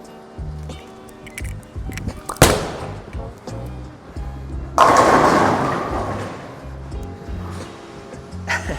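A bowling ball, a reactive Storm IQ Tour or Ion Pro, rolls down the lane and crashes into the pins with a loud, scattering clatter, following an earlier thud, amid background alley noise and music.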